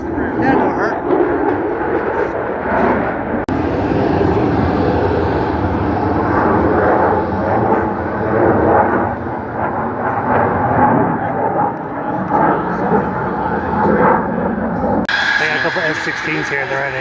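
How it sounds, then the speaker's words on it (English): F-16 fighter jets fly at an air show, a loud, sustained roaring engine wash rising and falling as they pass, with people talking nearby over the noise. "F-16s here."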